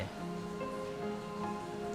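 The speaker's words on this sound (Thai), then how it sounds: "ฝนแม่งก็ตกแบบเนี้ย" Steady rain falls in a continuous broadband hiss with faint patter, even and unbroken throughout, with no voices.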